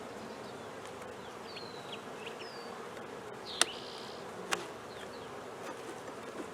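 Honeybees in an opened hive, with comb cut from bee removals, give a steady, moderately loud buzzing drone, and two sharp clicks stand out partway through.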